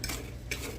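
Seasoning being stirred over breadsticks in a home kitchen, heard as two short scraping, clinking bursts of utensil against a dish, close and fairly quiet.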